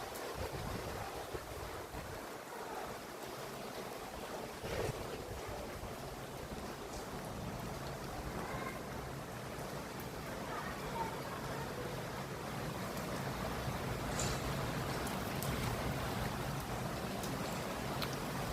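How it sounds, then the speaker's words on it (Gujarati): Strong wind gusting with unseasonal rain falling, a broad continuous roar and rush of air and water, steady and fairly loud throughout with no voices. "એકદમ ઝડપથી પવન ફૂંકાઈ રહ્યો છે, સાથે સાથે વરસાદ આવે છે"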